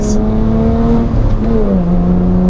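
An engine-swapped BMW E30 accelerating hard, its engine screaming at high revs from close inside the car, the pitch climbing, dipping briefly at a gear change, then rising again.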